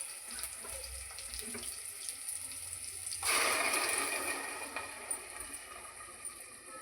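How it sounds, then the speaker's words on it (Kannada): Water is poured into a pot of greens sambar; a quiet room hum gives way to a sudden rushing gush that swells for a couple of seconds and then slowly tapers. "ಸ್ವಲ್ಪ ನೀರು ಹಾಕಿ."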